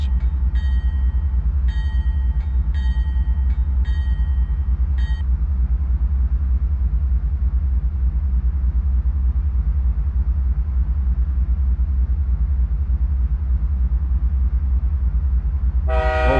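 A diesel locomotive in Microsoft Train Simulator rolls forward with a steady low engine rumble throughout, while a ringing bell sounds in the first few seconds and a short horn blast comes at the end.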